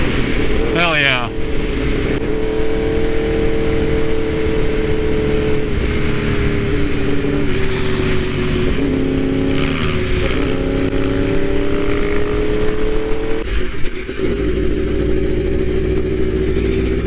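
Steady engine drone of a 2015 Yamaha R1 sport motorcycle while riding, held at a constant, fairly loud level with a slow shift in pitch, mixed with heavy wind rush and a brief clatter near the start.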